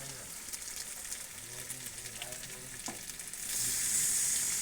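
Water poured into goat meat frying in a pan sets off steady sizzling and stirring, then a louder, harsher hiss of steam in the last second as the liquid hits the hot pan.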